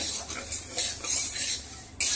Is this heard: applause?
no